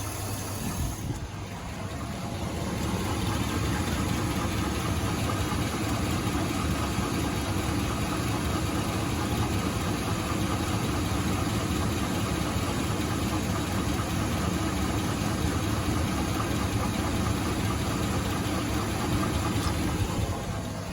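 A Chevy Avalanche engine idles roughly and steadily for a long stretch, running poorly, a loud continuous low rumble with uneven shaking and knocking throughout.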